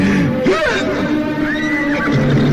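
A horse whinnies twice in a dark setting, the calls rising and falling amid continuous loud background noise and music-like tones with no speech.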